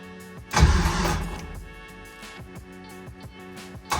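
A Nissan 240SX S13 with a built V8 swap cranks and fires for the first time, catching with a loud burst and then settling into a lumpy, rhythmic idle up close.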